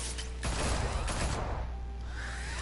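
A dense burst of gunfire in a Batman game set in Gotham rattles loudly and steadily for the whole moment, with a whooshing sweep near the end.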